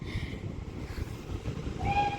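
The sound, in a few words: Great Western Railway Class 800 train arriving at station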